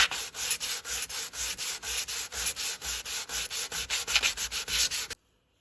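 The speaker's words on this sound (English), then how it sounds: "I'm going to find a little bit of sandpaper and see if I can fix it a little bit" Door trim being sanded by hand with sandpaper: rhythmic back-and-forth rasping strokes, close and fairly loud, continuing for about five seconds before stopping abruptly.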